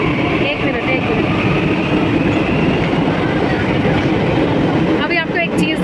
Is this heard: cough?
no